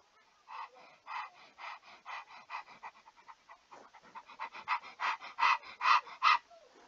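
A dog pants rapidly and steadily, with quick rhythmic breaths close by, growing a little louder toward the end, with no talk over it.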